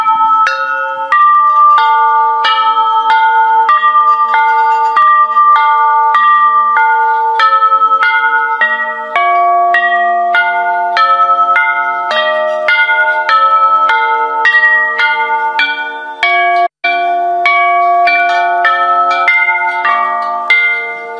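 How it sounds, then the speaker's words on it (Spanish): A handbell rung in a Christmas tune at a museum of traditional instruments: steady, sustained bright ringing tones that step through a changing melody, loud and close with no talk. "siempre nos llevamos esta campana, y se toca de esta manera"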